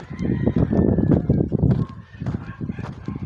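Chickens at a large poultry farm make a dense, continuous chorus of clucking and squawking calls, many birds overlapping at once, fairly close and loud with short dips between bursts.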